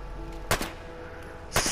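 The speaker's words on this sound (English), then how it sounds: "look at how slow these projectiles shoot." Skorpion VSC gun in Fallout 4 firing slow-moving projectiles, heard as two sharp, loud shot bursts about a second apart over a low steady game hum.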